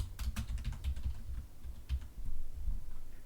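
Rapid keystrokes on a computer keyboard, a busy run of clicks and taps up close that thins out briefly before picking up again, with no voices.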